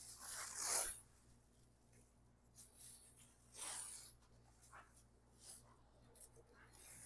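Plastic sheeting with tape attached is peeled and handled during a doghouse build, giving several soft crackling rips and rustles that rise and fade at uneven intervals.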